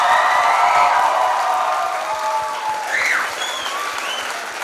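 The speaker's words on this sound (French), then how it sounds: "Une bonne main d'applaudissement pour ce gros spectacle." Sustained applause from an audience at a school talent show, loud and dense at first and gradually thinning, with a few faint voices rising near the end.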